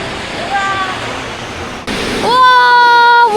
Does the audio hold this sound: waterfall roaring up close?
yes